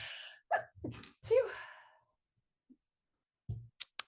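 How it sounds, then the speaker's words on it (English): A single sharp sneeze bursts out between short breathy sounds, followed by a pause and a few faint clicks. "excuse me, I'm going to sneeze."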